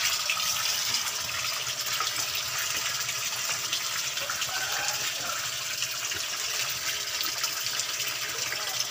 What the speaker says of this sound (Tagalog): Lalagyan na natin ng tubig mga kapawis dahil hindi na makagalaw mga isda.